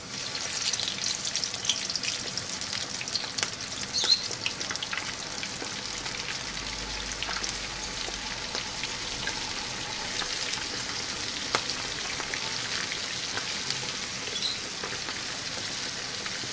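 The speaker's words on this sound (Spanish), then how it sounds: "Tenemos el aceite bien caliente y empezamos a freír" Chicken for Dominican picapollo frying in very hot oil, a steady dense sizzle with fine crackling that runs the whole time, close and even, with no talk over it.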